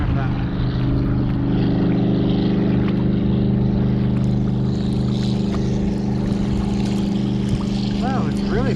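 Motorboat cruising on a river, its engine a loud, continuous drone with a steady low hum and rushing water throughout, while someone talks over it near the end.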